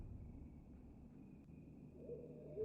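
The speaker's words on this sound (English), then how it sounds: "the hooting of the owl." Faint owl hoots in a dark nighttime ambience, with a soft low tone rising near the end over a quiet rumbling background.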